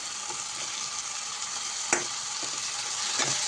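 Ginger garlic paste sautés in a hot pan with a steady, close, bright sizzle, broken by a few soft scrapes of a stirring spoon.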